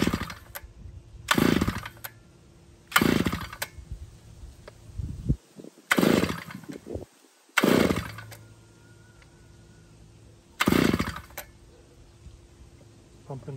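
A Harbor Freight 6-inch gas-powered earth auger engine catches in a series of short, loud bursts of a few seconds each, separated by quieter gaps, with some talk in between.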